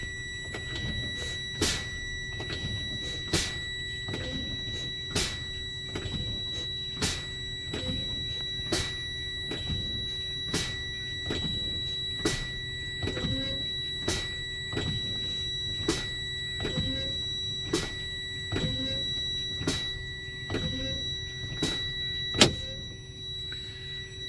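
Class B truck air brakes being fanned during a pressure test, with regular short bursts of air release repeating every second or so over a steady mechanical hum, fairly quiet and with no talking.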